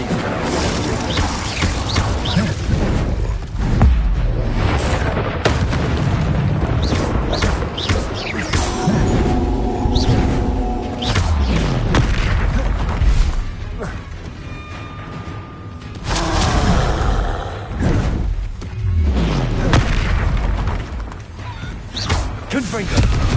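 Fiery Incendio and Confringo spell blasts in Hogwarts Legacy burst repeatedly in a busy combat mix, loud crashing explosions and thuds arriving in clusters with brief lulls between volleys.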